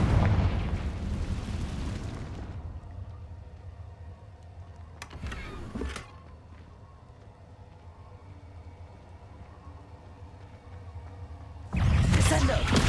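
A Confringo explosion spell goes off in Hogwarts Legacy, a brief burst landing mid-scene over steady game background rumble, followed later by a louder blast at the end.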